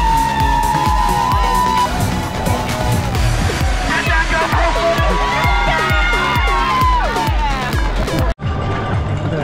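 Spectators line the course of the Rose Bowl Half Marathon, cheering and whooping loudly and continuously as runners pass about three miles in, with music pounding nearby and the crowd noise close and dense throughout.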